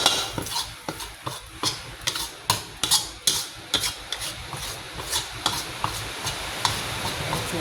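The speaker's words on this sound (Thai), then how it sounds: "เราก็มาผัดพวกผักนะคะ มันสุกยากนะคะเราต้องผัด" Vegetables, including carrot, stir-fried in a pan for Thai mi sua noodles: a spatula scrapes and clatters in quick, uneven strokes over a soft sizzle, close and fairly loud, with no talking.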